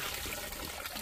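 A weak flow of water trickles from a mountain spring, a faint, steady, brief dribble with no voices over it.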